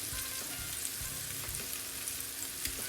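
Food frying in a pan for a cheap budget meal, a steady, moderately faint sizzle with small crackles and soft pops, no voices.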